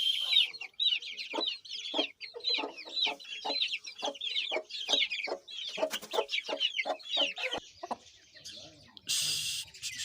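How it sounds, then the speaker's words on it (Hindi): Young Aseel chicks cluck and cheep busily at close range in a steady, rapid stream of short calls, with a brief burst of noise near the end. "जो पहले ब्रीड थी उनसे थोड़े बड़े हैं ये चूज़े। और माशाल्लाह बहुत ही एक्टिव हैं।"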